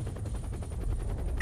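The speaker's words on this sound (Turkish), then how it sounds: "Çok büyük bir füze patlaması." A huge missile explosion in the video game SAS: Secure Tomorrow, heard as a loud, rapid crackling barrage of blasts pulsing in quick succession, like continuous gunfire, with no talking.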